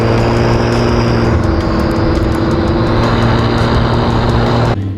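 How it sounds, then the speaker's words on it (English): A car's turbocharger spools up, very loud and constant, with a steady whine riding over heavy engine roar that cuts off abruptly at the end. "That thing has the loudest turbo spool in the world, man."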